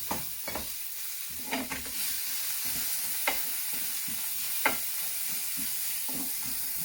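Vegetables fry in a pan with a steady, moderate sizzle and hiss, punctuated by a few sharp clinks and scrapes of stirring at scattered moments.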